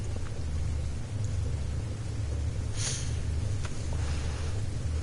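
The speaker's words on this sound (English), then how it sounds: "I don't like the fact that it's constantly raining," Steady rain with a deep thunder rumble plays on a stormy, misty, bog-like planet in the No Man's Sky video game, a constant wash of sound with a brief brighter crackle midway, and no voices.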